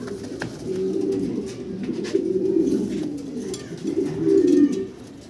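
German Beauty Homer pigeons cooing close by, a low, rolling coo that swells and fades in repeated bouts, steady and without talk.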